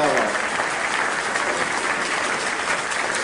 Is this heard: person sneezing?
no